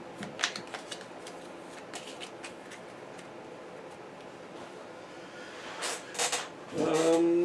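Cards from a turn order deck being shuffled during an Aeons End Legacy board game session, a few soft papery riffles and flicks close by, quiet, then a louder burst of card noise at the end.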